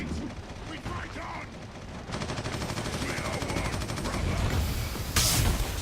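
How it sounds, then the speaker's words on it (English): Gunfire in Warhammer 40,000 Eternal Crusade: rapid automatic bursts that thicken into a dense, continuous rattle of shots, joined near the end by a sharper blast, with a voice speaking faintly underneath. "Whatever they're shooting me with, it's certainly doing quite a bit of damage."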